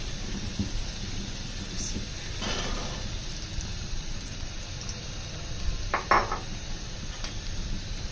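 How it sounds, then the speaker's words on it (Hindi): Boiled chickpeas drop into a pan for pulao with a short clatter and scrape against low, steady kitchen background noise. "अब इसके अंदर हम डालेंगे उबले हुए चने"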